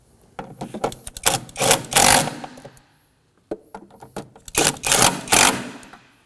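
A ratchet clicks rapidly in two bursts, tightening the thermostat housing bolts on a 2016-2020 Kia Sorento 2.4L four-cylinder, close and loud with a pause between the runs.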